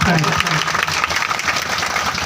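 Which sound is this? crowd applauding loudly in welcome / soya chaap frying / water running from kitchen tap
crowd applauding loudly in welcome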